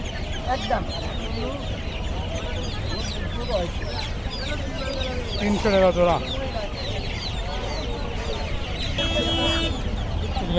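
Chickens cluck and squawk at a busy Tongi poultry and pigeon market selling ducks and chickens, a dense bird din under close chatter and bargaining voices.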